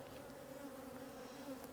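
Honeybees buzzing steadily around hives, a continuous droning hum at fairly low level with no talk.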